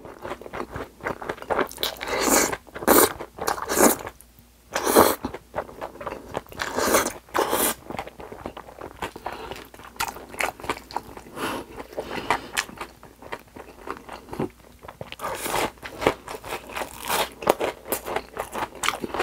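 Crispy fried tonkatsu, shrimp tempura and spicy cold bibim noodles are eaten close to the mic. Loud crunchy bites and wet chewing repeat steadily throughout with no talking.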